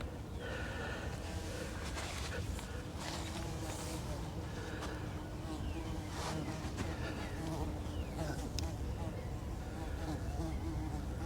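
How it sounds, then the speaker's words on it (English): Bees swarming an apple tree in an urban garden make a steady buzzing bed throughout, partly masked by outdoor noise and occasional sounds close by. "can you hear all the bees in back of me?"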